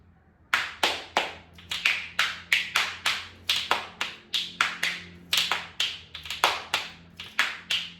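Musical spoons played as a steady rhythmic groove: a fast run of sharp, bright clacks and rattles in a repeating pattern, close and lively, with no talk over it.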